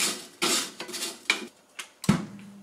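The lid of a CHEFREE AFG01 smokeless grill and air fryer is shut, with a few close plastic and metal knocks and rattles ending in a firmer clunk, heard alone.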